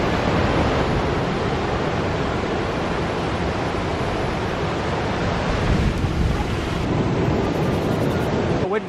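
Ocean waves wash steadily onto a beach in Malibu below a cliff, a dense, loud, continuous roar of surf with wind buffeting the microphone, and no voices.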